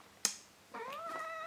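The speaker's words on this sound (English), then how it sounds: "The cat's just jumped on the keyboard." A house cat near a computer keyboard gives one clear, close meow that rises and then falls. A sharp tap comes just before it, in an otherwise quiet room.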